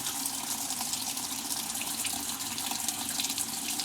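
An RV washing machine fills with warm water during spring unwinterizing, a steady, close rushing of water flowing into the drum that holds evenly throughout without pause.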